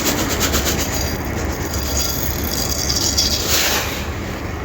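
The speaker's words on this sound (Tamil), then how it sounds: "கடுகு நல்லா பொரியுது" Mustard seeds crackle and pop in hot oil in a pan, a dense, steady sizzling spatter that fills the whole stretch without pause, with no voices.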